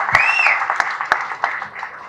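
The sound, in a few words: audience applause at event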